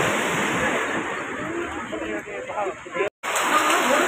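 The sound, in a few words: ocean waves at Marine Drive beach, Mumbai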